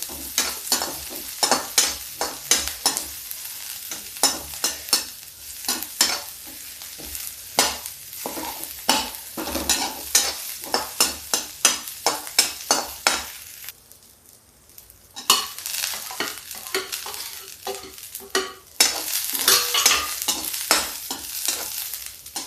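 Corn chaat sizzles and fries in a pan over a high gas flame, with frequent loud scrapes and stirs from a utensil against the pan, a brief pause midway, then more sizzling and stirring.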